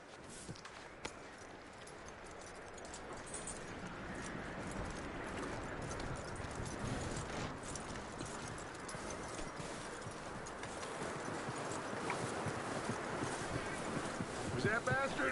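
Horse hooves clip-clop steadily across the ground in Red Dead Redemption 2, a continuous walking rhythm mixed with wind noise, with voices talking over it.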